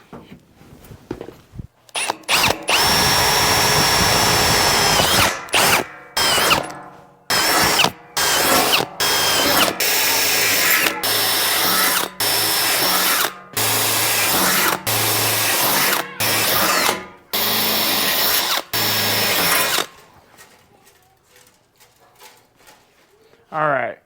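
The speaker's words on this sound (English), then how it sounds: "While I wait for it to dry, I'm gonna go pre-drill some holes in it." A power drill pre-drilling holes in a part for a short-box truck build, running in repeated loud high whirring bursts of a few seconds each, separated by brief pauses, then falling quiet.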